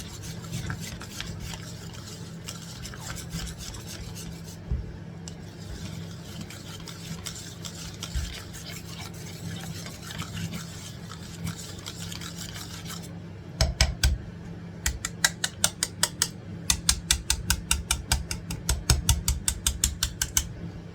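Strawberry tartlet dough is stirred and worked in a bowl, giving soft, steady rubbing and scraping. Sharper, rhythmic taps and knocks come near the end. No one speaks.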